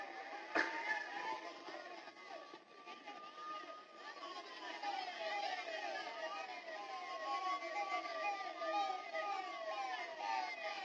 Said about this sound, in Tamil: ஆம்புலன்ஸ் வழிவிட்டுருங்க.